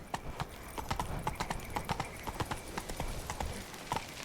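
Roach the horse from The Witcher 3 video game walks along with clear, rhythmic hoof clip-clops, close and steady over a faint background.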